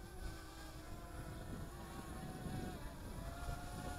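A Tomzon D40 GPS drone descends overhead with a faint, steady propeller buzz like a distant motor, mixed with light wind rush, with no speech.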